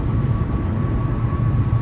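Steady low rumble of an airplane engine overhead as it comes in to land, continuous and fairly loud with a faint tonal hum, no talking.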